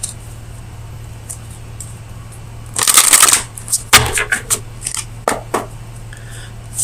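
An Oracle of Visions oracle card deck is shuffled close by in a short, loud riffle of cards. Scattered soft card flicks and taps follow, with no talking.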